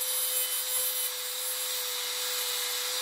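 A cutting disc slices freehand through material with a constant high, hissing grind and a steady whining tone, continuous and close for the whole stretch.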